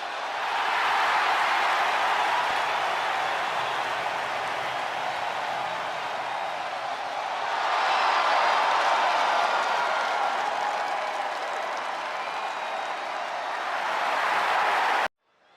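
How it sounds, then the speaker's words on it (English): Steady arena crowd noise from the WWE 2K24 video game fills the whole stretch, cheering and applause swelling louder around the middle before cutting off abruptly at the end. "The crowd erupts in cheers as Morgan celebrates her hard-fought victory"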